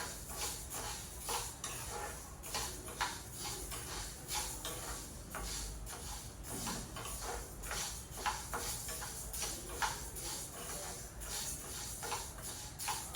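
Moong dal (pesalu) dry-roasting in a pan, with steady stirring and scraping, light ticks and faint sizzle from the grains throughout, close and continuous.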